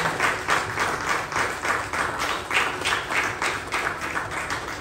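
A crowd applauds diplomats at a gathering, steady rhythmic clapping from many hands that stays loud and even throughout, with no voices over it.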